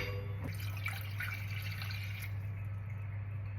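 Water is poured into a glass, about 250 ml meant for boiling, a steady soft trickle that lasts only briefly, over a constant low electrical hum.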